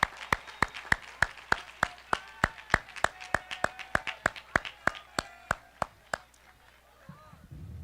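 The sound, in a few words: graduation audience applause for the choir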